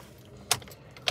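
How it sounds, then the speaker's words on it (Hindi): Keys jingle as the ignition key is pulled from a 2024 Maruti Suzuki Alto K10 VXi Plus, two sharp metallic jangles close up inside the quiet car. "सबसे पहले निकालते हैं इसकी भाई साहब चाबी को"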